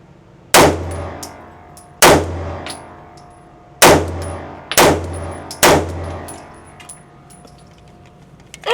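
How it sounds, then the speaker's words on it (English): Five sharp gunshots from a Kimber 2K11 pistol with a 4 1/4-inch barrel, fired one-handed at a steady, unhurried pace, each crack loud and close with a short ringing tail, and no talking between them. "let's go with 5 shots right here with the 4 1/4."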